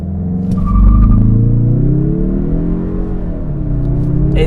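A 2021 Mazda 3 Sport GT Turbo accelerates on a night drive, its engine droning as the revs climb steadily, then dip with a slow first-to-second gear shift before pulling again.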